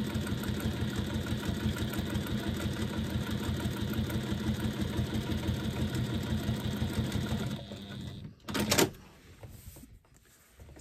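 Domestic sewing machine running steadily as it stitches a random wavy line of embroidery across layered fabric for a strap, a continuous close whirring hum that stops near the end, followed by a brief handling clatter.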